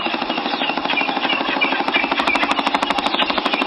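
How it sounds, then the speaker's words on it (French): Rapid, rhythmic thudding of helicopter rotor blades, loud and close, pulsing steadily throughout. "C'est le bruit d'un hélicoptère, patron."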